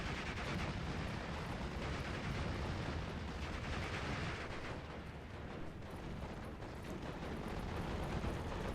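A Stuart tank and infantry exchange gunfire in the WWII strategy game Steel Division: Normandy 44, with a dense, continuous roar of rattling shots and booming blasts that stays steady and distant throughout.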